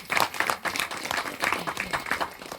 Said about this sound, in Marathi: पण आमच्या श्रीराम साठी एकदा जोरदार टाळ्या.